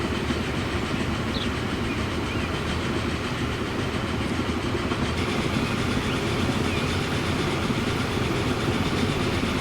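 Trains in the video game Transport Fever 2 roll along railroad tracks in a continuous rumbling drone with faint rhythmic clatter, steady and fairly loud throughout.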